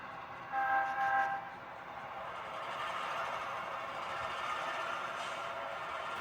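HO scale BN GP10 and SD40-2 model locomotives rumble steadily along the track, with a brief horn-like tone near the start, then a continuous mechanical whir.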